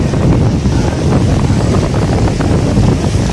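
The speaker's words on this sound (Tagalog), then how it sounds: "ito yung dagat ng Garcia Hernandez." Wind and waves on the sea at Garcia Hernandez make a loud, steady rushing roar with heavy wind buffeting close to the microphone and no voices.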